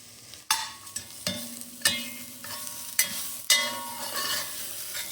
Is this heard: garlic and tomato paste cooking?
yes